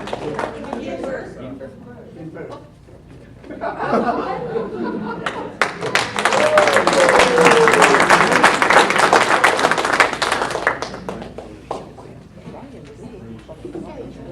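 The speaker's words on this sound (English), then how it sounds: "A big round of applause for all of our investors at the meeting." A room of investors at a breakfast meeting breaks into a round of applause. The dense clapping swells up, holds for several seconds and then fades, with chatter and some laughter around it.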